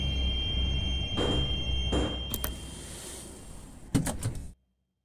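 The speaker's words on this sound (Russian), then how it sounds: "Осторожно, двери закрываются." Sliding doors on a Moscow metro train in a 2D metro simulator game shut with a few sharp clunks and thuds over a steady rumbling hum, then the sound cuts off abruptly.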